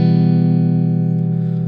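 Clean electric guitar from UJAM Virtual Guitarist Cinedream through the Glow amp, the cleanest model, holding one steady sustained chord with rich harmonics that rings loud and alone, fading slightly near the end.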